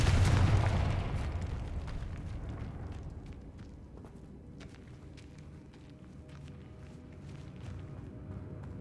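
One loud Confringo fire-spell explosion in Hogwarts Legacy bursts at the start and then fades into a long rumbling decay, with faint ambient crackles lingering afterward.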